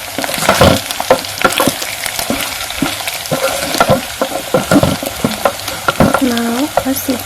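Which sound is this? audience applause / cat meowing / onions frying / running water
onions frying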